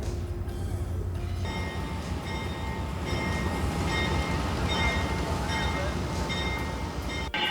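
An Amtrak Genesis diesel locomotive pulls slowly out of a roundhouse, its engine a steady low rumble with a sustained tonal whine above it, close and continuous, picking up slightly after the first second.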